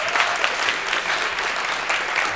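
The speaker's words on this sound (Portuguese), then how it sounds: "salve de palmas." A lecture audience gives a round of applause after a talk with Ruy Guerra, loud, dense and continuous from start to finish.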